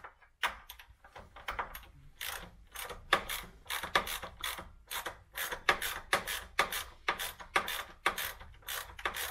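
Rear hub bolts on a Land Rover Discovery 3/4 or Range Rover Sport being unscrewed by hand, a quick series of sharp metallic ratchet-like clicks in an irregular rhythm, close and moderately loud with no talking.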